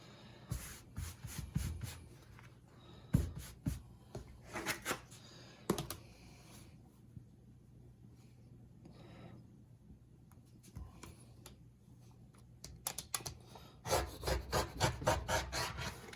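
Scissors cut through the fabric of a long pant leg, making close, quiet snips and rough rasping bursts with pauses in between. A longer run of steady cutting comes at the end.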